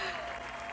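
Crowd at a high school marching band and colorguard show applauding in a steady, dense wash of clapping that holds throughout, with faint voices mixed in.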